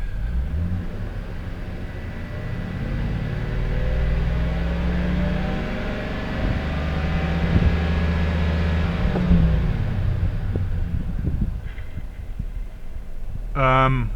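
Gasoline engine of a 2007 GMC Sierra pickup with a suspected faulty oil pressure sensor, revved gently in a driveway: a steady low rumbling drone that swells and eases with RPM, close by, with no talk over it.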